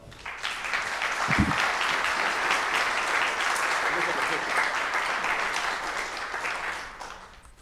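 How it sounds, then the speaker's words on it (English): A city council meeting audience breaks into a sustained round of applause for a group of Girl Scouts, a dense wash of many hands clapping steadily for several seconds before tapering off. "Again, one more round of applause."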